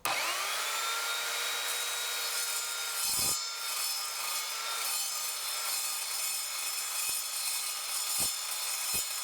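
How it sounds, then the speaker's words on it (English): An Evolution Fury 3-S sliding mitre saw cuts through rusty 3mm angle iron, giving a loud, steady, high grinding whine that holds for the whole stretch with no voices. "This is 3mm thick angle iron."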